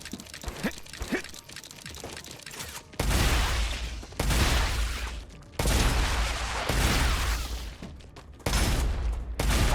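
Gunfire in the video game StarRupture, loud sustained bursts of rapid shots in several long volleys separated by short gaps, with quieter game sounds before the first burst.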